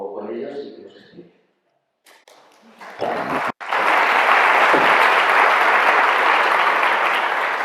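An audience at a church gathering bursts into loud, sustained applause that swells and continues as a dense wash of clapping, following brief speech and a pause.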